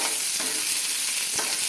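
Mustard seeds and chopped onion fry in hot oil for a tempering, giving a close, steady crackling sizzle with a couple of soft stirring scrapes.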